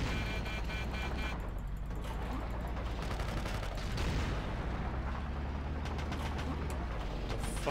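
A .50 cal machine gun firing in Battlefield 2, a sustained, fairly quiet stream of rapid shots with distant booms, mixed into the game's background din.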